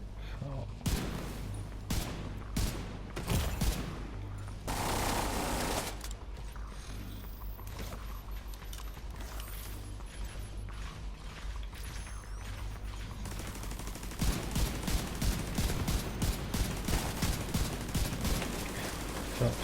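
Video game combat with repeated explosions and rapid turret gunfire, dense bursts of shots and blasts running continuously over most of the stretch, with some speech mixed in.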